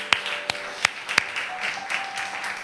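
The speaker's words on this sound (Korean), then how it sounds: "여러분 하나님께 영광의 박수를 올립니다" Congregation applause during a Korean church worship service, a few sharp separate claps at first, then softer scattered clapping with a faint tone lingering underneath.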